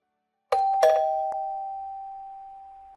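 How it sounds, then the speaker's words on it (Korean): A doorbell rings inside a home, a couple of sharp electronic chime strikes followed by one long sustained tone that slowly fades, loud and close with no talking. "초인종 소리 못 들었니?"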